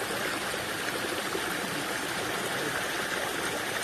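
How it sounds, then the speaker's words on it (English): A backyard pond waterfall spills into a flowing stream with a constant, broad rushing hiss, steady and close, no voices over it. "Look at this waterfall."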